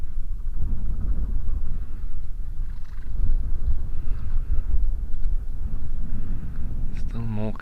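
Steady outdoor wind buffets the microphone in a natural spa spot, a continuous low rumbling roar that stays loud for the whole stretch, with a brief voice right at the end.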